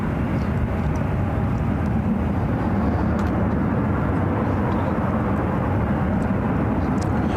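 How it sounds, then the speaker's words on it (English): An Air France Boeing 777 arriving from Paris on approach to SFO runway 28 left makes a steady, broad jet roar that stays constant and fairly loud throughout, with no voices. "Do have that Air France flights 84 coming up from Paris, a 777 at 300 AR. Looks like it's heading to 28 left."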